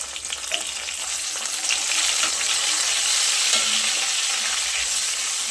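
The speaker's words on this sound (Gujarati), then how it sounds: "હવે કટ કરીને રાખેલા ટામેટા ઉમેરી દઈએ।" Chopped tomatoes hit hot oil in a pan over low-to-medium flame, giving a continuous bright sizzle with light stirring scrapes, close and steady throughout.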